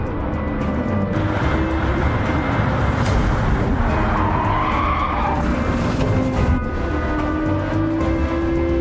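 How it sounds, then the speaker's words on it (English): A race car in a racing video game brakes too late, and its tires skid and squeal over a loud, continuous engine roar. The sound is close and steady, with no speech. "Applying the brakes too late, leading to a rear-end collision."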